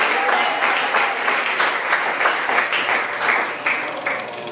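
A church congregation applauds, a dense, sustained wash of many hands clapping together at close range, swelling in uneven pulses throughout.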